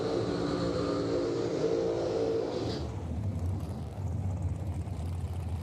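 A loud, roaring drag racing car engine at a bracket race, held at high revs, then dropping to a deeper, rumbling idle, steady and close throughout.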